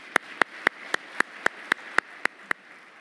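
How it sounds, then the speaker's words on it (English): Applause for a team at a data warehouse conference presentation comes through as about ten sharp, evenly spaced claps from a single pair of hands. They land at a steady slow rhythm against a quiet room. "Let's give them a round of applause"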